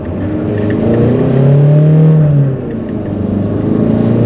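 A 2014 Citroen C4 Picasso diesel with automatic gearbox kicks down and accelerates, its engine note rising and droning steadily from inside the cabin with a smooth turbo whir, no talking.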